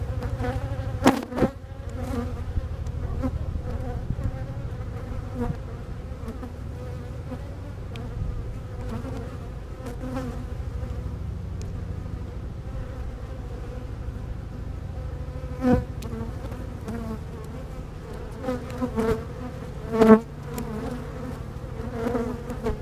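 Honeybees buzz steadily around an open beehive during an inspection, a dense close drone with individual bees whizzing past the microphone now and then.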